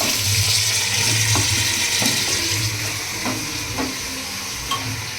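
Mutton sizzles in a hot pan with onion and green chillies while a spoon stirs it in repeated short scrapes, a steady close frying hiss running throughout.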